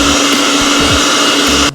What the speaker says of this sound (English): We will set our mixer for mixing.